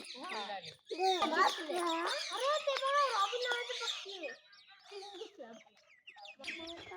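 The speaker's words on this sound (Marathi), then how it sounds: "बघ किती पोपट आहेत बघ" Many parrots squawk and screech in a loud, overlapping chorus close by, with harsh rising and falling calls that thin out toward the end.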